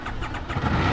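A black 2009 Buell 1125CR motorcycle with an aluminum frame and 4,239 miles fires up, a brief cranking churn swelling into a loud close engine roar within a second.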